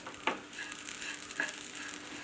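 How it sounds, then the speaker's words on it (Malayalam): Broken wheat roasting in a pan over gas gives a faint, steady sizzle with a few soft stirring scrapes, close up and quiet. "ഇതാണ്ടില്ലേ പാകത്തിന് പൊരിഞ്ഞ് വന്നിട്ടുണ്ട്"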